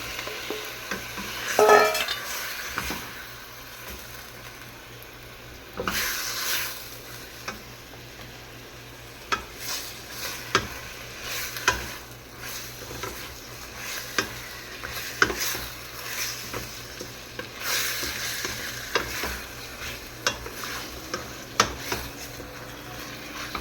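Chicken frying in a pan while being stirred, with a soft steady sizzle and intermittent scraping and clinking of a utensil against the pan, fairly quiet and close.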